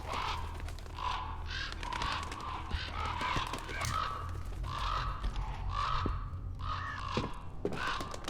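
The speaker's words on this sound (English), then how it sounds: "Why the fuck are there so many birds there suddenly?" Crows caw over and over in the horror video game Song of Horror, a flock of harsh repeated calls arriving in bursts over a steady low ambient hum.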